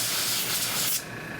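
Compressed air hisses loudly onto wet alcohol-thinned paint on an O scale model water column, a strong steady blast that cuts off abruptly after about a second, leaving a faint background hum.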